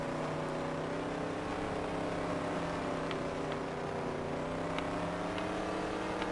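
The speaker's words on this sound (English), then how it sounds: "hopefully you can hear the cars a little bit better than before" A steady, droning race car engine in the video game Dirt Track Racing 2 hums at a constant pitch throughout, moderately loud with no voices.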